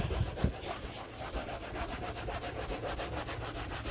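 Steady scrubbing of a refrigerator door being cleaned by hand, a continuous rough rubbing with a brief sharper stroke near the start, close and moderately loud with no talking.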